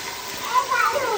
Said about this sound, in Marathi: पाणी सांडलं ना